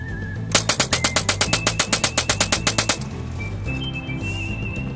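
A homemade DIY .22 caliber minigun fires one rapid, loud burst of evenly spaced shots, about two dozen in roughly two and a half seconds, then stops, leaving a faint whistle-like tone and outdoor ambience.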